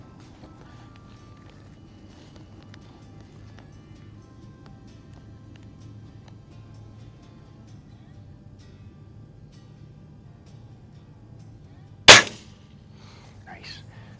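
Diana springer air rifle fired at soda cans outdoors, a single sharp, loud shot snapping out over quiet background hum, followed by a faint short ring.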